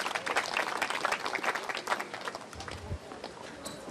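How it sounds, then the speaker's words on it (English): A crowd at a professional tennis match claps in a dense, sustained round of applause that fades slightly toward the end, with faint talk underneath. "That forehand got a great round of applause from the crowd here."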